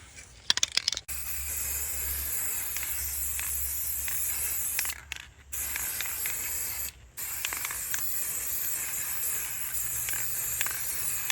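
Rust-Oleum clear coat spraying from an aerosol can over a waterslide decal design: a steady, fairly loud hiss sustained for long stretches, broken by a few short pauses between passes.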